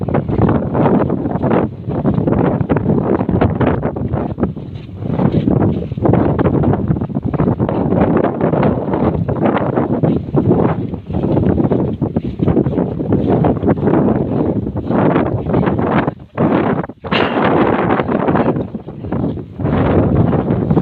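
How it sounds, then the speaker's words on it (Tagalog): Strong wind at a beach buffets the microphone in a continuous loud roar, with rushing gusts and no break throughout. "Sobrang lakas ng hangin mga kachabi."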